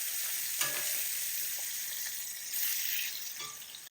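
Salmon sizzles in a hot frying pan with a steady, bright, close hiss and faint crackles and scrapes of turning, no voices.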